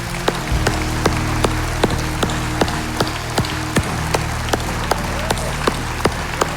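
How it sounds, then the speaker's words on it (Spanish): A church congregation applauds during a worship service, an even, continuous patter of many hands with regular louder claps marking a steady beat throughout. "Vamos, un aplauso para el Señor."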